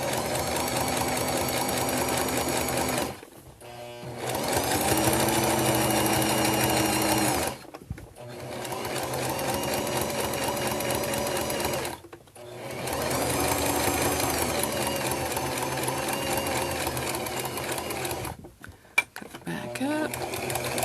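A home sewing machine quilting fabric whirs steadily in long, loud close-up bursts, each stopping briefly before the stitching runs again.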